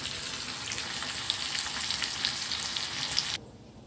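Ackees and shrimp fry in butter and oil with tomato, a steady close sizzle with occasional pops that cuts off abruptly near the end, leaving quieter background.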